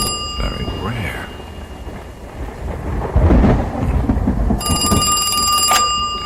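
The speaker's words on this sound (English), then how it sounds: "A winter thunderstorm in New York City." A winter thunderstorm in New York City, staged as a radio drama sound effect: a low rolling thunder rumble swells to a loud peak midway over steady storm noise, then a telephone starts ringing near the end.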